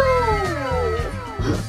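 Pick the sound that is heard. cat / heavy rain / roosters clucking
cat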